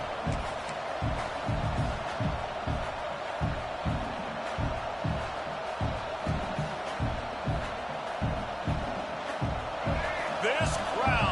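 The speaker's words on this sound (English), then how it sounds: "This crowd, full throat, spreading the eardrums and letting them know it's going to be a long day." A football stadium crowd roars steadily at a game, a dense distant wall of cheering with rhythmic thumping, while a commentator talks over it.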